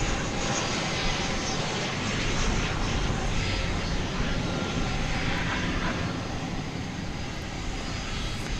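An Airbus A300 airliner at night at DFW Airport gives off a continuous broadband engine roar that stays loud and steady throughout, with no pauses.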